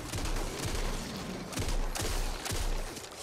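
A shotgun fires repeatedly in the zombie shooter game Back 4 Blood, several sharp blasts spaced about half a second apart over constant dense in-game noise, with no talk.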